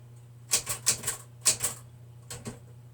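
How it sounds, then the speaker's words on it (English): Keys clack on a keyboard in short bursts: a quick run of about five sharp taps, a pause, then two more, close and crisp over a low steady hum. "I have to type what I'm doing."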